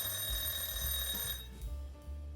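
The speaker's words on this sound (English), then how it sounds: "That was my timer." A kitchen timer alarm rings steadily in a home kitchen while baked potatoes cook, a sustained electronic tone that breaks off partway through and leaves quieter room noise.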